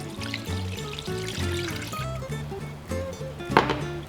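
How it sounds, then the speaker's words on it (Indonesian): Water poured into a cendol flour mixture in a pot, a steady close trickle and pour with light knocks, under low background music. "Terus kita masukin airnya."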